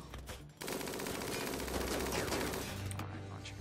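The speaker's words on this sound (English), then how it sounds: "Make sure that they're shooting at the best target." Sustained automatic gunfire from a RimWorld siege battle, a dense continuous rattle of rapid shots with background game sounds, loud and without pause.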